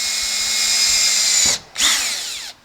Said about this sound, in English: all you're going to do is just drill a hole through the plastic paddle